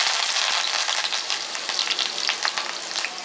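Cumin seeds frying in hot oil in a pan, a dense, steady crackling sizzle with small pops throughout, close and fairly loud, no voices.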